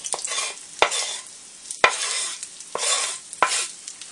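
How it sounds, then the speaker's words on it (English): Chunks of beef fat sizzle and fry in a pan as they render down into tallow. Steady, close scraping strokes of a stirring utensil sweep through the hiss in a loose rhythm, with no talking. "Start to fry it up. Actually, all of it can kind of go. And this will just render down into fat."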